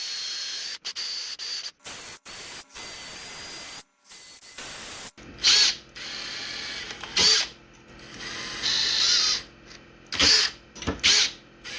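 A drill bores lead holes into a hand-carved wooden crankbait with carved scales, in short, loud, whirring bursts separated by brief pauses and clicking handling noises.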